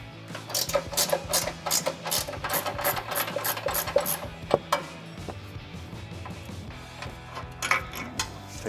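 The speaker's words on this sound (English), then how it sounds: "So we have a 21mm ratcheting wrench and an 18mm wrench to hold the head." A 21mm ratcheting wrench on the front upper control arm bolts of a 2004-2020 Ford F-150 gives quick, repeated close clicking in bursts, with metallic clinks and shop noise.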